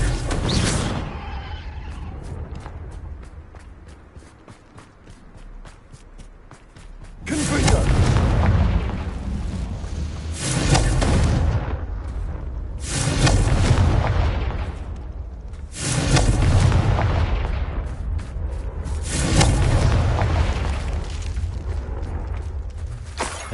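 Confringo fire-spell explosions in the video game Hogwarts Legacy, heavy booming blasts arriving in a steady series of about five loud bursts with whooshing tails, over a rumbling game background.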